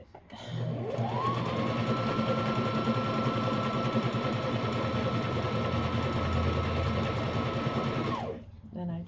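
A sewing machine runs steadily for about seven seconds while stitching a wool diaper cover, a close, even mechanical whir that starts and stops cleanly, with faint voices at the edges.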